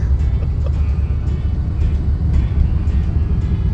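A 1950s Cadillac engine runs at a steady idle, giving a loud, continuous low rumble up close with no talk over it.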